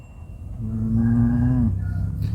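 A water buffalo in a field lets out a single deep, drawn-out bellow close by, rising out of low background noise and fading after about a second.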